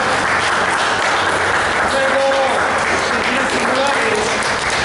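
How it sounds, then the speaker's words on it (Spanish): Audience applause at a gathering of chroniclers and historians in El Fuerte, Sinaloa, a steady, fairly loud wash of clapping lasting throughout, with faint voices and brief tonal sounds mixed in. "Es en reconocimiento, un aplauso."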